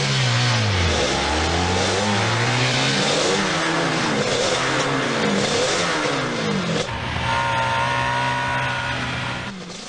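Race car accelerating hard from a standing start on a track, loud engine revving up through several gear changes with rising and falling pitch sweeps, staying close and intense throughout.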